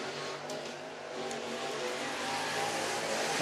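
Race car from a dirt track meeting, driven by Corey Neal Jr. of Bridge City, Texas in the number 7 machine, roaring steadily and close throughout with a broad, rising engine drone and no talk.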